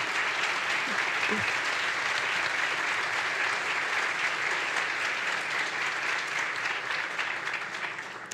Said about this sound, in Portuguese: Eu gostaria de pedir uma salva de palmas para ela.